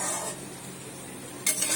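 Fish roe frying in a pan is stirred, giving a soft, steady sizzle broken by brief scraping clatters of the utensil at the start and again near the end.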